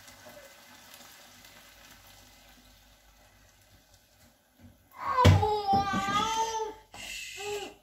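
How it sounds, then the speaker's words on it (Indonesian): A little water is poured into a pan of cooking mushrooms, a sudden loud burst of hissing and bubbling sizzle after a quiet stretch of soft frying, fading then flaring again briefly. "Baik, kita masukin air sedikit ya."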